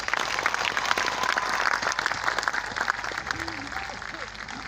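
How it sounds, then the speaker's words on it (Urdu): Audience applause at a school and college function, a steady wash of clapping that carries on throughout with a voice talking over it. "تمام ایک تالیاں ہو جائیں ان کے لیے."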